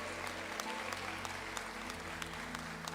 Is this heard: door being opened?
no